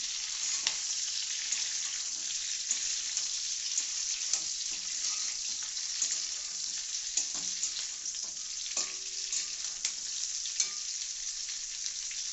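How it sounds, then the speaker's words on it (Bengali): Green chillies stir-fry in hot oil in a pan for homemade chilli chicken, with a bright continuous sizzle broken by frequent scraping and tapping of a spatula. "কাঁচা লঙ্কা দিয়ে দিলাম মোটামুটি দেখতেই পাচ্ছে ভালো করে একটু নেড়ে চেড়ে নিয়ে"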